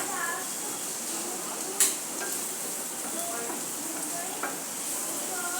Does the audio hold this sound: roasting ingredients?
yes